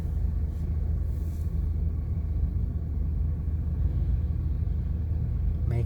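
Road traffic on Rizal Street in Makati, a steady low rumble of idling and slowly moving cars, continuous and dense without clear passing events.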